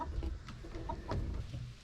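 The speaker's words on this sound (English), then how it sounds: "we are getting no eggs because of these 2 Broody Hens wanting to lay on everything all the time" A broody hen in a chicken coop gives low, irritated clucks and grumbling calls close by, a few short bursts over a steady farmyard background.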